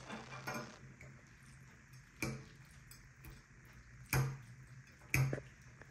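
Spicy microwave noodles stirred in a bowl, with a few sharp clinks of utensil against the dish standing out over quiet scraping, spaced irregularly and close by.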